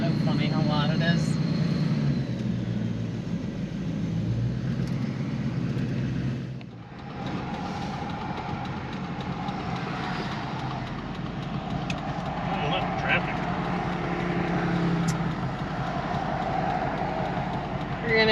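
An LBZ Duramax diesel pickup with an upgraded turbo idles and runs loud at night, its deep continuous rumble filling the scene while people talk over it.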